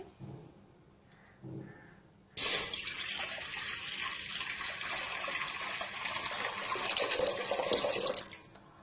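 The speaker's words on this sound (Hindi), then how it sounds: "तो अब इसमें हम पानी डालेंगे" Water pours steadily into a large cooking pot on a stove over medium heat, a loud continuous splashing rush that starts abruptly and runs for several seconds before stopping, after a few brief quieter sounds.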